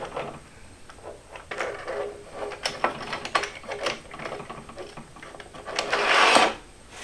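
Wooden jig runners pushed into a table saw miter slot, a series of close scraping, knocking slides and clunks as the stubborn runners are worked in, ending with a louder grinding push.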